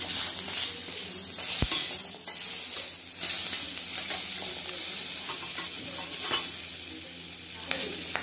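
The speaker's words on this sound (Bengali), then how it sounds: "লঙ্কা দুটো একটু ফাটিয়ে দিচ্ছি" Two green chillies fry and split in a small amount of oil in a pan, with a strong, continuous sizzle, sharp crackling pops and occasional stirring knocks.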